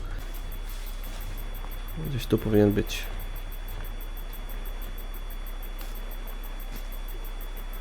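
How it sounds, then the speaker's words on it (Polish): GPS tracker beeping in the survival game Sons of the Forest, a faint high regular pulsing running steadily throughout, with someone speaking briefly over it midway. "No już nam zaczyna piszczyć GPS."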